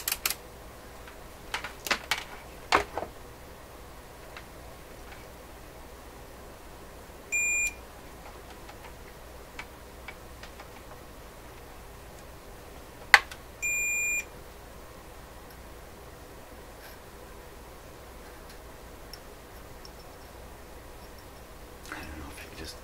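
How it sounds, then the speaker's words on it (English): A continuity tester on a Rogers 11RA651 shortwave radio, probed between the tube shield and the chassis, gives two short electronic beeps several seconds apart amid faint clicks and room quiet. "Let's see if there's continuity between the tube shield and the chassis."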